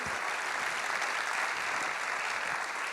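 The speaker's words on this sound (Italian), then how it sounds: "Mandiamo questo applauso agli architetti assenti," Audience applause in Auditorium Pollini at the Barbara Cappochin architecture award ceremony, honoring absent architects: a dense, even patter of many hands clapping continuously, fairly loud, with no voices.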